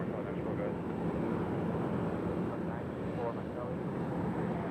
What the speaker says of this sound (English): That is an aborted takeoff.